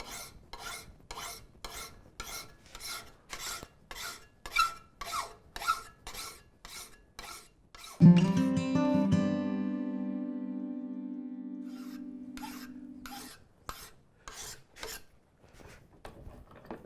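Steel spokeshave blade being filed to refine its bevel, a steady run of rasping strokes in even rhythm, broken midway by a loud ringing metallic clang that slowly decays before the filing resumes.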